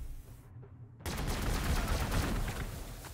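Sustained battlefield gunfire in Warhammer 40k: Gladius, a dense, steady roar of massed shooting that follows a brief lull and carries on loud until the end.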